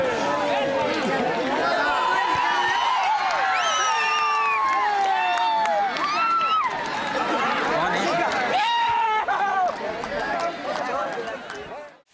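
Women tea pluckers cheer on their men at a family match on a tea estate, a lively crowd of excited shouts and chatter that carries on for several seconds before tailing off.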